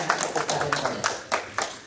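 Scattered hand clapping from a small audience at an Indonesian book launch for a spiritual book, honoring the editor; a handful of separate sharp claps with uneven rhythm, moderately close, with faint talk underneath.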